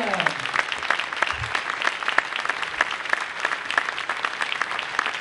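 Congress hall audience at the FFCC 2022 gathering in Fontvieille gives the young people a sustained burst of applause, many hands clapping in a steady, fairly loud wash with no speech over it.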